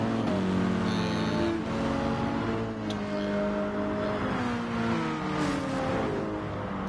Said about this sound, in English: I just want to listen to these cars drive one last time, listen to the pure engine sounds